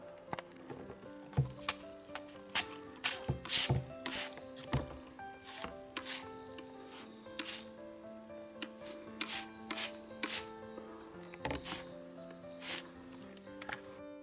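Rapid rhythmic scrubbing strokes cleaning mold off a refrigerator door gasket with mold-remover spray, close and crisp, repeating in short bursts with brief pauses, no voices.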